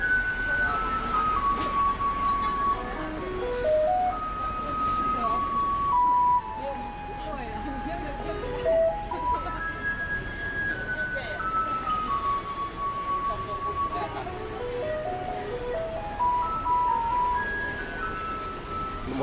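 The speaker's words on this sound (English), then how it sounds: "It's the regular trash machine that comes and pick up all the garbage. They play this really neat music" A garbage truck in Taipei plays its cheerful jingle melody as a string of bright, tinny electronic notes over street and traffic noise, with people talking alongside throughout.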